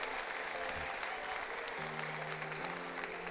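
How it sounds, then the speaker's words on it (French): Audience applause fills a large cinema hall at the Grand Rex in Paris, a dense, steady clapping from a big crowd that holds at the same loudness throughout, with a faint voice briefly underneath. "Et ils arrivent sous vos applaudissements."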